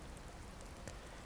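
Rain falls steadily in the survival card game Card Survival, a soft, even hiss of droplets with faint scattered patter, quiet and unbroken throughout.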